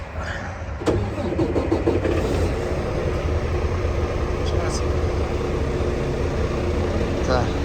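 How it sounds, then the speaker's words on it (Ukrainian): A diesel truck engine is cranked and catches, settling into a steady low rumbling idle while people talk nearby. "так що будемо зараз пробувати заводити"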